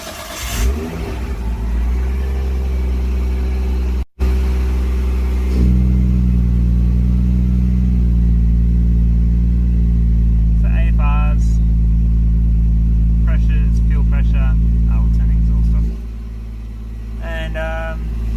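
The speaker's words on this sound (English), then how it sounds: "I'll start the car, and you can see the gauge" An R33 car engine cranks and catches, then settles into a steady, loud idle with a deep hum; a voice speaks briefly over it before the engine note drops.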